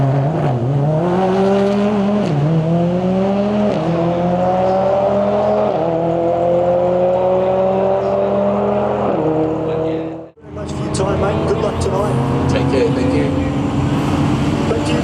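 A V10 TDi twin-turbo Nissan GQ Patrol shorty race car drives hard, its loud engine rising in pitch through several gear changes before a brief drop, then roaring again up close.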